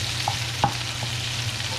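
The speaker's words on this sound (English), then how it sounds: "that sizzle, the little bubbling of the fat" Pork browning in fat in a hot pan gives a soft, steady sizzle with a faint bubbling undertone and a couple of small clicks, close and alone without talk.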